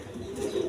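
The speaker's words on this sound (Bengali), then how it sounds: "একদম 1500 টাকার বিনিময়ে নিতে পারবেন লোটন কবুতর" A Lotan pigeon gives a single short, soft coo from close by, with no talk.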